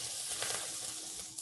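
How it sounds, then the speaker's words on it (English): Hot oil hits spices and hand-pulled noodles with scallions in a loud, continuous bright sizzle that stays steady and close throughout. "if you guys can hear that sizzle when it hits"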